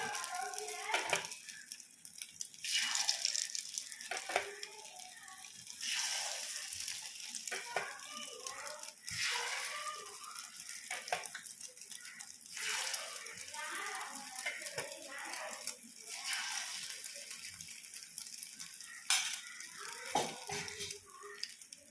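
Egg and rice batter sizzles in hot oil in the wells of a paniyaram pan, a steady crackling fry with repeated bursts of louder spitting as more batter goes in.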